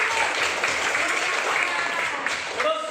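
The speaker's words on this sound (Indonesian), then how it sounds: "Tepuk tangan untuk Indah" A classroom of students claps for a classmate, a short burst of dense, even applause heard close, with a few voices mixed in toward the end.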